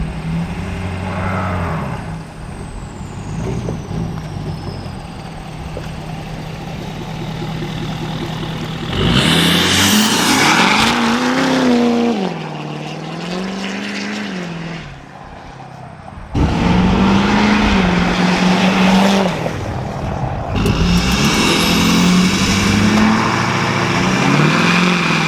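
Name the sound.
pickup truck driving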